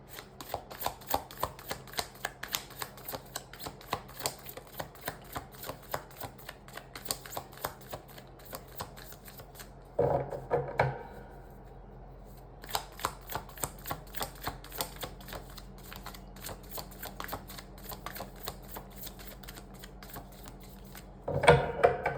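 Tarot cards are shuffled by hand in a long run of rapid riffling flicks, pausing briefly twice before resuming, close and moderately loud with no talking.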